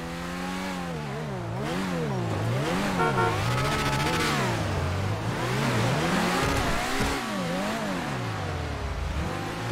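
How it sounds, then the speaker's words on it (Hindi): A supercar in GTA 5 racing along a twisting parkour track, its engine rising and falling in pitch as it weaves through quick turns, loud and close throughout, with some tire noise and no talk. "गाड़ी देखो ऐसे मुड़ जाती है जल्दी जल्दी से एकदम"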